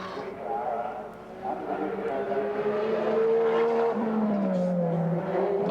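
Mark Gibbs' GIO GTR race car howls at speed around Mount Panorama in 1991, its engine note rising steadily then dropping with a gear change before climbing again, loud and sustained, with a commentator talking over it.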